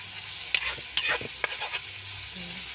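Tomatoes fry in a pan, a soft sizzle under repeated scraping and stirring strokes from a utensil, close and moderately loud.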